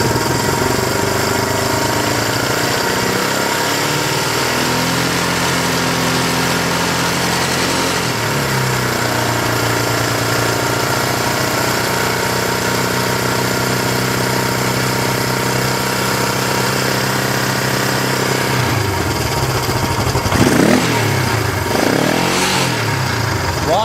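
A running engine idles during a voltage test with a meter, giving a loud, steady, close drone that holds throughout, with the pitch wavering and rising near the end.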